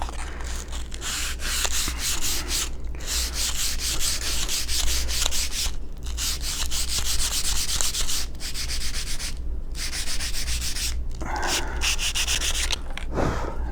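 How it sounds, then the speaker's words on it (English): A wooden arrow shaft is smoothed by hand with 220-grit sandpaper, giving a close, steady rasping rub that runs almost without a break, interrupted only by a few brief pauses between strokes. "I'm going to take my 220, I'm going to put it in my hand, I'm going to smooth it so I can get rid of all the splinters"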